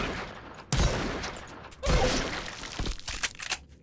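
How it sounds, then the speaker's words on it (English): Shotgun blasts in the jetpack shooter game GRAV, two loud sharp bursts about a second apart with rattling tails, followed by quicker, lighter impacts. "How about shotgun?"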